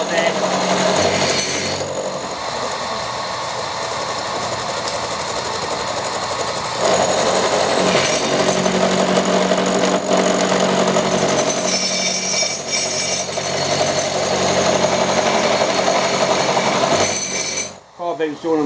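A solid carbide cutter machines a hard turbocharger housing on a lathe, a loud continuous grinding, chattering whine that shifts in pitch and intensity, with a voice talking over it before it cuts off near the end.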